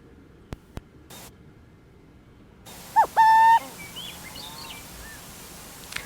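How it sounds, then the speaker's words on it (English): Burrowing owl calls from a recording, a few sharp rising screeches and chattering notes after clicks and a brief pause, fairly loud over a hiss of static. "The burrowing owl screaming for us there."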